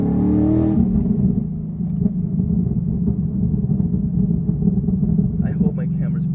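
A tuned Ford Mustang GT with long tube headers rumbles loudly up close, its exhaust revving and burbling, with crackling pops toward the end.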